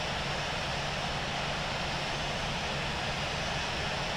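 A jet aircraft taxis toward runway 2 left at Singapore Changi airport, a steady, loud engine roar and hiss that holds level from start to finish.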